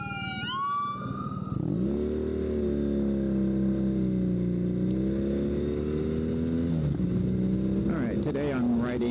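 A 2009 BMW R1200R motorcycle fitted with a new clutch cruises along with a steady, close engine drone. A wailing siren sweeps briefly at the start before the engine note settles.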